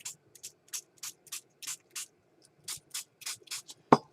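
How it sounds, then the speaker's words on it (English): Water is spritzed onto a mixed media artwork in a dozen short, crisp bursts from a spray bottle, evenly spaced at first and then quicker, each a close, soft hiss over a quiet room. "let's spray it with some water."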